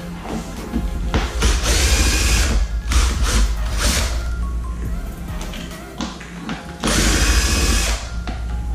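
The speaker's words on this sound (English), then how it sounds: "If you are using a drill, be sure that you're not using the most powerful setting when you're taking them off." A power drill spins ESC screws out of a Backfire Galaxy G2S electric skateboard, sounding in several loud whirring bursts with short pauses between them, close up and alone.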